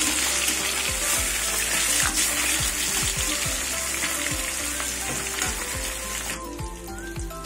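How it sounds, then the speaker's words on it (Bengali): Steady, loud sizzling of catla fish frying in hot oil, with occasional soft knocks and stirring, continuing almost throughout. "মাছগুলো একদিকে ভাজা হয়ে গেছে, উল্টিয়ে দেবো।"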